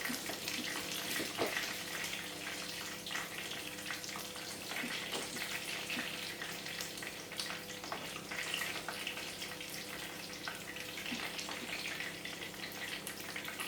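Dandelion fritters frying in hot oil produce a steady, quiet bubbling sizzle with faint scattered pops and crackles throughout, with no talking.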